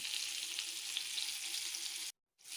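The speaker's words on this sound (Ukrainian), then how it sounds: "Гречаники обсмажую з двох сторін." Buckwheat patties made with minced meat sizzle and crackle in a frying pan, a continuous close hiss that cuts out briefly near the end and then resumes, with no voices.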